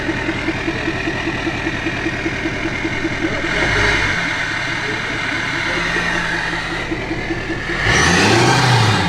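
A Nissan Sunny engine runs in its engine bay with a steady rough idle, swells into a rev, settles, then rises again sharply at the end, loud and close.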